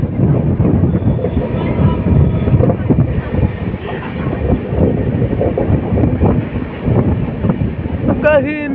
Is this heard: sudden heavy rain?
no